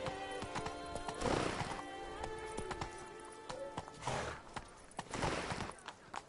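Hooves of Roach, a horse in The Witcher 3: Wild Hunt, galloping with a rhythmic clip-clop under game music and ambience, moderately loud, with occasional brief bursts of louder hoofbeats.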